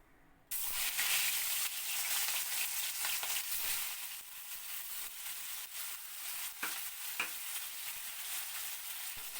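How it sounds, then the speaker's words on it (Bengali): Catla fish pieces rubbed with salt and turmeric sizzle steadily in hot oil, a loud, dense frying hiss that bursts in abruptly and then holds unbroken, with a couple of sharper pops. "এই তেলে আমি একটু হালকা করে ভেজে নেব"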